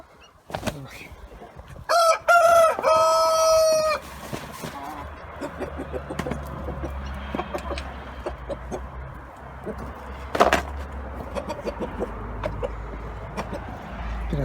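A rooster crows loudly near the start, then chickens cluck and peck in scattered bursts against quiet outdoor background.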